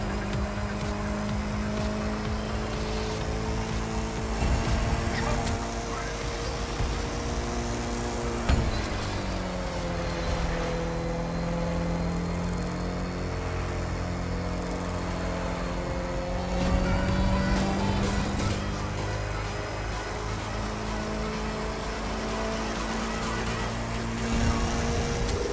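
A car engine drives through The Crew 2 video game, a steady droning motor with rising and falling revs at gear changes over about twenty-five seconds.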